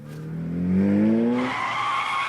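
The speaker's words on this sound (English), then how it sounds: "An engine this loud could only mean, yep, Maruzensky." A loud car engine revs and tires skid in the Umamusume video game, a rising engine whine sweeping upward into a screeching skid, close and prominent with no talk over it.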